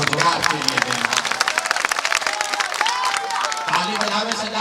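A crowd at a Bihar political rally claps in dense, uneven bursts, loud and continuous throughout, with crowd noise mixed in and no clear speech on top.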